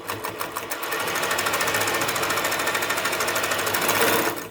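Sewtech ST-1900-AS industrial sewing machine seaming with tape, running in a fast, even mechanical chatter of rapid needle strokes, close and steady for several seconds before stopping.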